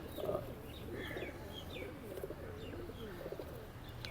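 Pigeons coo softly and repeatedly at a bustling pigeon market, low throaty calls layered over faint background murmur and occasional chirps.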